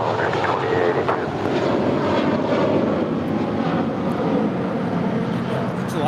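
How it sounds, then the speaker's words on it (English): An American Airlines Airbus A321 departs LAX for JFK with a continuous, loud, broadband jet roar that holds steady from start to finish, with voices faintly present. "That is American Airlines 238 departing to JFK on an A321"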